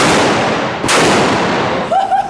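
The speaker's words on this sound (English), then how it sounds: "In Toronto, you can unload some massive shotguns at Target Sports." A single sharp shotgun blast at an indoor shooting range in Toronto, loud and close, with a long noisy tail and a faint tone rising near the end.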